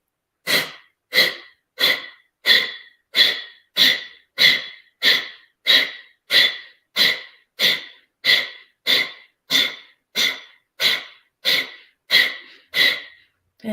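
Twenty-odd forceful nasal exhales in a yoga breathing exercise, each a sharp puff at a brisk, even rhythm of about one and a half per second, close and loud with no talking.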